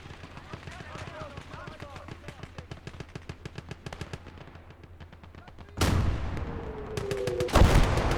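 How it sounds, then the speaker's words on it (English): Rapid, dense machine-gun fire rattles continuously in the Gates of Hell war game, with heavier howitzer booms and artillery blasts joining near the end, loud and close. "The howitzers are laying down some heat, and the other guns that I've got dotted around."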